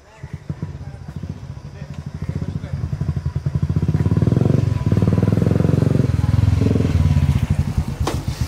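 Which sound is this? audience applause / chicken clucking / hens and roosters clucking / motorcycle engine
motorcycle engine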